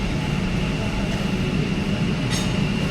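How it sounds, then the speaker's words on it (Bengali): A metro train arriving at an underground station on India's underwater metro line between Sealdah and Howrah, with a loud, continuous rumbling roar, a brief high squeal near the end and faint voices in the crowd. "ট্রেন কিন্তু আসছে, দেখুন।"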